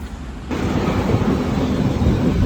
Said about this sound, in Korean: 이번엔 지하철 타고 갑니다